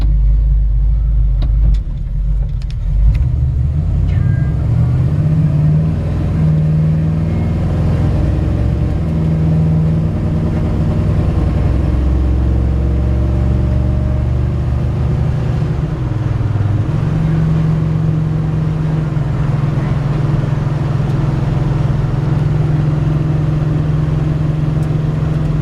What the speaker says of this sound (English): I'm gonna take it for a quick drive.